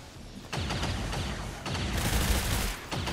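Gunfire in a military video game session, a rapid fusillade of shots in several bursts separated by brief pauses, loud and close, with no talking.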